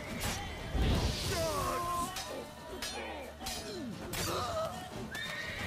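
Horses neigh and whinny in the Witcher 3 video game, several loud, wavering calls spread across the clip, with faint hoof clatter and clinking in the background.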